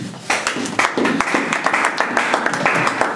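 Audience at a men's church conference in Morocco claps to welcome the pastor, a lively burst of dense applause with sharp individual claps standing out, loud and close, with a few voices mixed into the noise.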